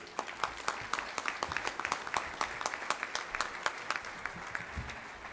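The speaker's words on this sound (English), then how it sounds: "A big round of applause for Charlie Caslin and Bruce Coonsey." Scattered applause from a modest audience at a candidate forum for county judge executive, individual claps distinct and fairly sparse, moderately near and steady for about five seconds with no talking.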